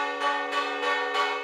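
Church bell in a bell tower chimes in slow, evenly spaced strokes, each ringing tone sustaining into the next, moderately loud and alone with no voices.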